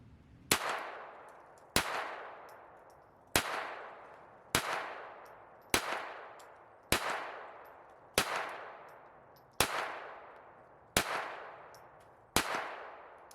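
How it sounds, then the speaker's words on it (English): A Ruger SR22 .22 pistol fired ten times at an even, unhurried pace, each sharp crack ringing out and decaying before the next, alone with no talk. "So let's go ahead and do a little shooting."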